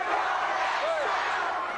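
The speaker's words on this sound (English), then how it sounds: "there they are cheering Cornette" A wrestling arena crowd at a 1990 WCW Worldwide show roars for manager Jim Cornette, a brief, dense wash of cheering and shouts at a fairly loud level.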